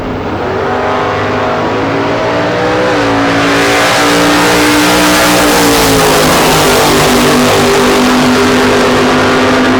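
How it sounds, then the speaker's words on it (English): A 1966 Chevy II and a 1967 Chevy II drag car, one small block and one big block, launch side by side, engines roaring loud and close as revs climb and shift upward, with no talking. "Michigan with a 67 Chevy 2. Scott Saban from Lakeville, Michigan with a 66 Chevy 2. Small block on the right, a big block on the left."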